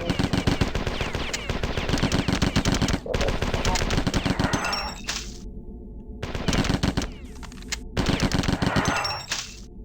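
A 10mm flechette SMG fires in Marathon Infinity, long rapid automatic bursts broken by brief pauses, loud and dense, with a voice faintly under the gunfire.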